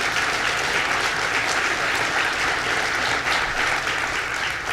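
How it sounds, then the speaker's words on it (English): Sustained applause from an audience at a bill-signing event led by the governor in Brentwood, steady clapping at an even volume throughout with no pauses. "Let's give them a round of applause."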